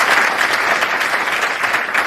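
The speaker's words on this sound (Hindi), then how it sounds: "एक बार समवेत तालियां बजाइए" Audience applause at a Hindi poetry recital, a full, even burst of clapping from a large crowd, heard alone without talk.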